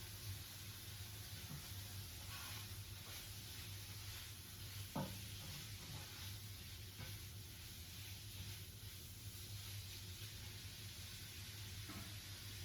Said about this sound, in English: I'm going to go and stir the bacon